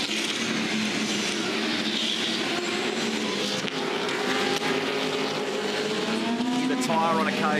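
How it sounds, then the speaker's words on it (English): V8 Supercars race cars at Bathurst in 2015 roar through the Dipper, engines blaring loudly and continuously with a light squeal of tyres near the end, under commentary. "Tyre on occasion, just a little bit of squeal as they came through the dipper"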